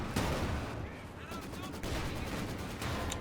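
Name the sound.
guns firing at light armor, Company of Heroes 2 video game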